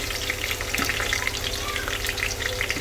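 Green chillies frying in oil with curry leaves over a low gas flame for khichdi give a dense, steady sizzle and crackle, close and even, with no voices.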